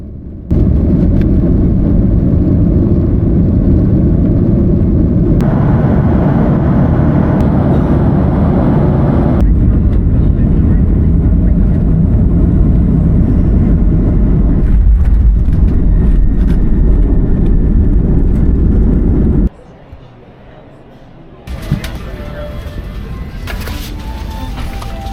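A jet airliner takes off on an overnight flight from Boston to Dublin, filling the cabin with a loud, steady engine roar that runs for most of the stretch before cutting to quieter cabin hum.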